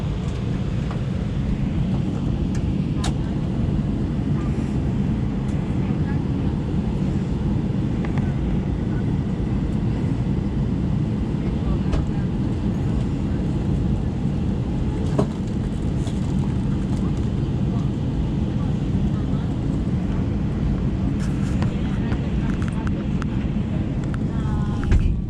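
A steady, loud low-pitched roar of airliner engines fills the cabin continuously as the plane taxis toward the runway at Gatwick.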